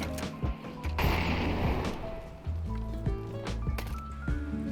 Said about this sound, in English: Throwing incendiary. Decoy. Incendiary up.